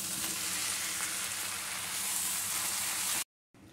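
Kasundi mustard stirred into a fish and mango leaf curry (mourala chochchori) in a pan, giving a steady, close sizzle with soft stirring scrapes, broken by a brief silent gap near the end.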